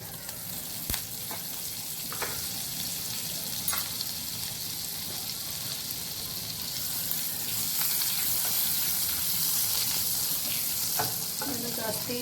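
Butter and olive oil sizzle in a pan for a pasta sauce, a steady, close frying hiss with occasional light clinks of stirring throughout.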